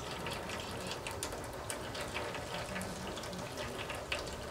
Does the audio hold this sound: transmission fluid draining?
yes